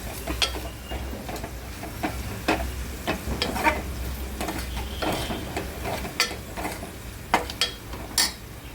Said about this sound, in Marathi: जिरा मसाला आणि गरम मसाला सगळे मसाले यामध्ये भाजून घ्यायचे